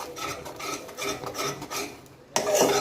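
Gram flour and ghee are stirred and scraped in a pan in a steady rhythm of gritty rasping strokes, close and fairly loud, pausing briefly before the stirring resumes.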